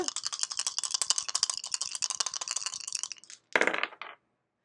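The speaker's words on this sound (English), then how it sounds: "we're going to throw the dice that have no name" Dice thrown during an astrology reading rattle and clatter in a rapid run of clicks for about three seconds, then a short, louder burst of rattling, close and alone with no talk.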